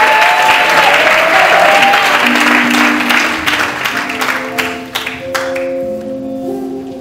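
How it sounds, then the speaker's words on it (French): A church congregation applauding the Lord, steady dense clapping that fills the room and then thins out, with a few sustained tones underneath. "On peut acclamer le Seigneur pour ça."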